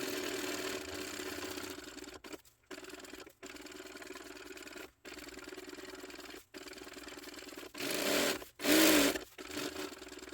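A sewing machine stitches a tote bag, running in bursts with several abrupt stops and restarts and a brief louder rush near the end, all close and with no talking.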